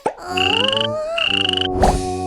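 Frog croaks in a cartoon scene, a series of rapid, rattling calls with tonal sweeps, close and clear, with no talk over them.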